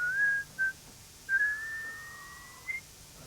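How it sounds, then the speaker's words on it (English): A man whistles in an unusual way, giving clear, thin tones in short bursts and then a long, sliding note, close but fairly quiet against a soft background hum. "Just do a little bit of whistling."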